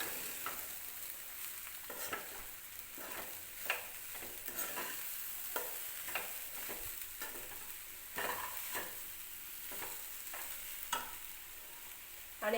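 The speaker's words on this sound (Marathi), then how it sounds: "मीठ टाकल्यानंतर परत व्यवस्थित मिक्स करून घ्यायचं आहे" A puffed rice mixture is stirred after salt goes in, with repeated scraping strokes in an irregular rhythm over a faint background hiss, close and fairly quiet.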